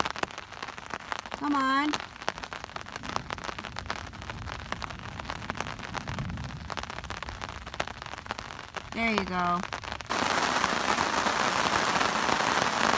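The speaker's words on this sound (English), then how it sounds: "it's raining pretty good here now" Steady rain patters on a surface in the Canadian wilderness throughout, with brief whistling bird-like chirps twice and a short spoken remark partway through.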